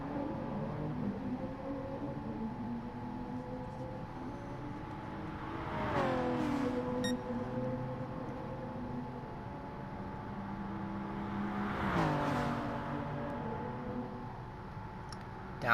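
Simulated Toyota Supra race cars run down the main straight of a racing game circuit, one drafting another, their steady engine drone rising into two louder passing swells, with no voices.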